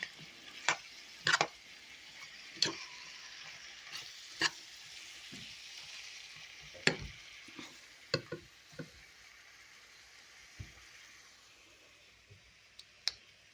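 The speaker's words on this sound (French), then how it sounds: "on fait revenir les oignons et la viande" Onions and meat for Hungarian goulash fry in a pan with a soft, faint sizzle, broken by sparse sharp clicks and scrapes as the food is stirred.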